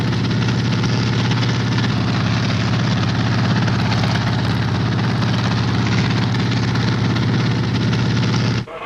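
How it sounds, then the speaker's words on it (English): A Royal Canadian Navy anti-submarine helicopter with dunking sonar flying to a new position on patrol: loud, continuous rotor and engine drone with rhythmic blade chop, heard alone on an old film soundtrack and cutting off abruptly at the end. "the helicopter flies to a new position to carry on its listening patrol"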